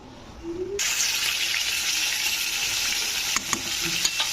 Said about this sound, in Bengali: কড়াইতে তেল দিয়েছি মাছগুলো ভাজবো